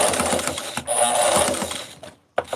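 A sewing machine stitches a seam in quick rhythmic bursts, a close mechanical whir with fast repeating needle clatter, pausing briefly twice before a short final run.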